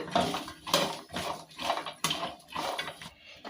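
Okra is stir-fried in a pan, with a spatula scraping and clinking against the metal in a steady rhythm of strokes roughly every half second, close and moderately loud.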